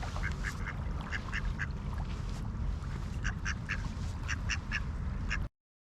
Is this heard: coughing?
no